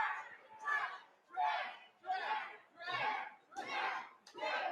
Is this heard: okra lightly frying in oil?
no